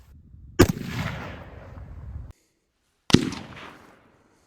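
Two sharp gunshots from an Anderson 14.5-inch AR-15 rifle fired without a suppressor, fitted with a Silent Steel muzzle device, each a loud crack followed by a long rolling echo, spaced about two and a half seconds apart.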